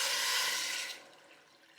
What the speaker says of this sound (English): we're going to pour enough water just to cover the lamb